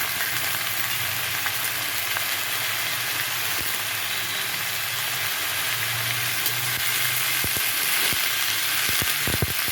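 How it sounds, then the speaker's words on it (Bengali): Potatoes and carrots fry in a pan for a roti-filling vegetable mash, a steady close hiss of oil running throughout with a few sharp clicks of stirring near the end. "এটা ভাজা ভাজা করে নেব।"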